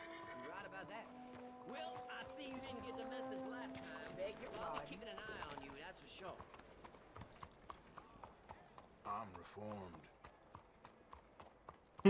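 Horse hooves clip-clopping in Red Dead Redemption 2, a run of quick uneven hoofbeats growing clearer in the second half, with music and voices at the start and someone talking over it.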